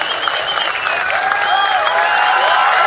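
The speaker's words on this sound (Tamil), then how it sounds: "அவரை சீமான் அறிமுகம் செய்த போது ஏராளமானோர் நிகழ்ச்சியுடன் ஆரவாரம் செய்தனர்" Crowd at a political rally cheering and applauding, dense continuous clapping with raised voices and whistles, loud and close throughout.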